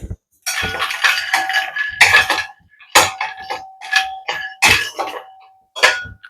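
Peanuts dry-roasting in a hot kadai give close, bursty clinks and rattles as they are tossed and scraped against the metal, with short pauses between stirs.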